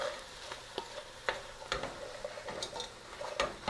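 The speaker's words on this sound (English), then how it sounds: "we're going to stir those around a bit." Chicken, vegetables and mushrooms stirred in a hot pan for a stir fry, a soft steady sizzle broken by occasional spatula taps and scrapes, close but quiet with no speech.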